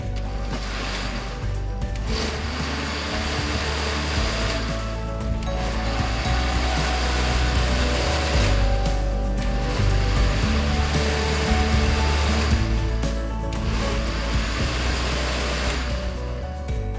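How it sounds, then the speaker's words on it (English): A blender runs steadily, grinding oats with water into homemade oat milk, a loud continuous whirring motor drone with slight pitch shifts, close up and without speech. "do not let the blender run too long so all the oats cut up too fine."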